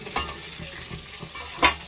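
Eggplant frying in a pan sizzles steadily and close, broken by a couple of sharp stirring scrapes, with no talking.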